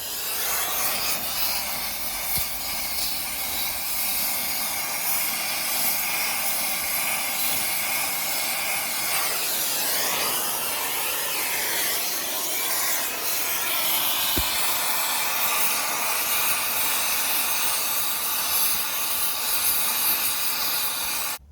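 Propane torch heating seized bolts on a bevel gear steering housing, a steady close roaring hiss running throughout with a brief shift in tone midway, no talk.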